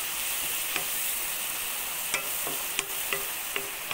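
Tomatoes stirred into a pan of frying curry leaves give a steady, close sizzle, with a few sharp spoon scrapes and clicks against the pan breaking through near the end.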